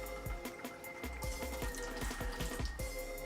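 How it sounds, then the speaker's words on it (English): Soaked cashews, half a cup, being drained of their soaking water without a colander: a steady running pour of water into a sink, with a few light clunks and knocks of the container throughout. "I have a ½ cup of cashews here that I started soaking a couple of hours ago, and I'm just gonna drain those off."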